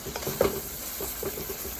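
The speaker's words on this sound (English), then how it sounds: "I'm going to add the sausage because I like to give that a chance to brown up a little bit" Thin-cut sausage browning in a pot for Louisiana red beans and rice, a soft steady sizzle with a light stirring scrape, quiet and close.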